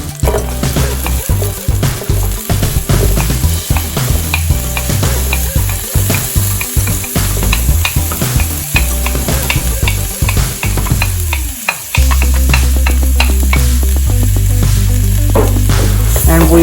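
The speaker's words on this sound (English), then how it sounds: "We saute the onions like gold color." Onions sautéing in a hot pan for Filipino chicken afritada: a bright, constant sizzle with rhythmic utensil scrapes and stirring clatter up close. The clatter stops, then a steadier frying hiss follows.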